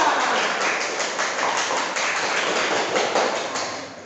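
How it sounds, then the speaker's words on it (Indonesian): Students in a classroom clap together in a dense, steady patter at close range. It sounds slightly muffled and slowly fades near the end. "Oke, berikan tepuk tangan untuk kalian semua."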